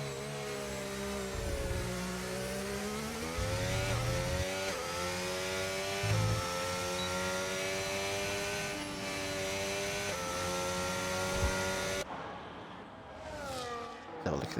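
A Ferrari race car in a Formula 1 sim racing game at the Great Britain circuit drives past, its engine a loud steady high-pitched whine with rising and falling revs, dropping off near the end while a commentator talks over it.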